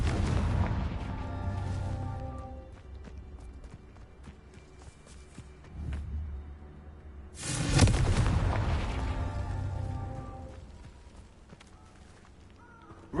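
Fiery Confringo blasting spell from Hogwarts Legacy, a loud burst erupting midway with a rumbling tail that fades slowly, between softer scuffling game sounds and no talk.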